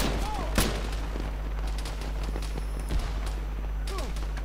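Gunfire in the military shooter ArmA 3, with a few sharp shots standing out against a steady background and voices heard at times over the action.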